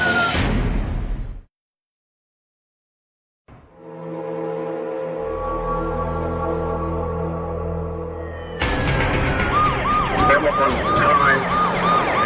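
Police car siren wailing during a high-speed chase, a loud sustained rising-and-falling tone that cuts off abruptly, returns after a pause of silence, then continues under a burst of engine and road noise.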